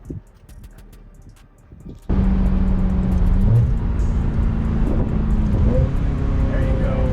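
A 25-year-old Ferrari with the top down, heard from the cockpit: quiet cabin sounds, then the engine bursts in loud and stays strong for several seconds, its steady revving tone rising and shifting as the car is driven.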